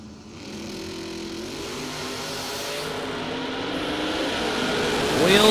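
A Chevy drag race car, a 1966 Chevy II, launches hard and accelerates down the strip, its engine roar building steadily and loud, with another car racing alongside at the drag event.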